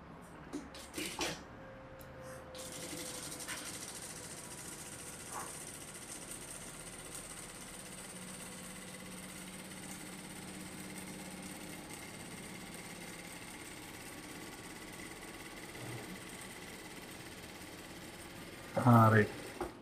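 A sewing machine runs an edge stitch in a faint, steady mechanical hum and whir that continues almost unbroken, with a brief louder clatter near the end.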